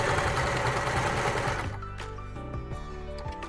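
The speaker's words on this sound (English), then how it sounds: "I'm going to sew the seam flat" A sewing machine stitches a turban seam flat, running fast and loud at first, then slowing to a steady, evenly paced needle rhythm; close and alone, with no talking.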